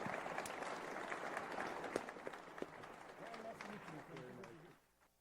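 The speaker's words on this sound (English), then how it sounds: "I'd really appreciate a round of applause for our wonderful panel" An audience applauds a panel at the close of an eggs-and-economy discussion event, a dense steady clapping that runs for about five seconds before cutting off, with a few sharper claps and a voice speaking over the latter part.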